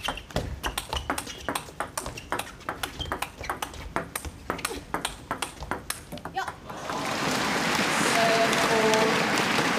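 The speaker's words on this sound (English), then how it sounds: "You could hear the high clicky sounds from the forehand of Feng Tianwei" A rapid rally of table tennis forehand shots in a professional women's match at the 2014 Japan Open: a fast run of crisp, high clicky ball hits, followed by a burst of crowd applause.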